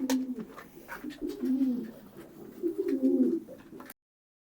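Ward Kuwait pigeons coo softly in a small loft, low throaty calls repeating in short phrases at close range with faint rustling and knocks in the background.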